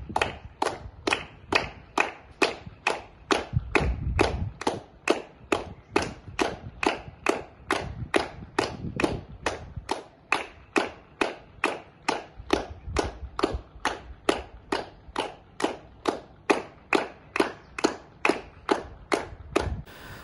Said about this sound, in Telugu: నరసాపురం పార్లమెంట్ సభ్యుడు కడమూరు రఘురామ కృష్ణంరాజు దంపతులు ప్రజలకు, వైద్యులకు కృతజ్ఞతలు తెలుపుతూ చప్పట్లు కొట్టారు